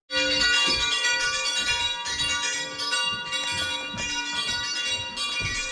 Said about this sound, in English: What does that bell mean?